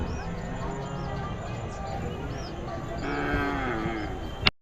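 Native cattle at a crowded livestock market in Tamil Nadu, with a low drawn-out moo rising late in the clip over constant crowd chatter and people talking nearby.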